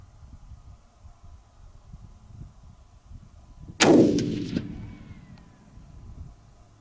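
A single sharp rifle shot from a Weatherby Black Hills fired while sighting in at about 100 yards cracks out and rings into a fading echo over quiet outdoor background noise.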